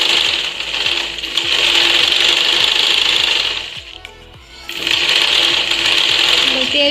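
A domestic sewing machine runs steadily while winding thread onto its bobbin, a fast rhythmic mechanical whirr close by that drops away briefly and then starts again.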